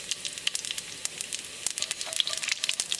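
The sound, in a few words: cumin seeds sizzling in hot olive oil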